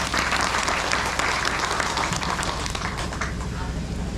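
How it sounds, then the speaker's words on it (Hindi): An audience clapping at a public gathering, a loud, sustained round of many hands that thins slightly toward the end, with voices mixed in. "ताली बजाओ एक बार।"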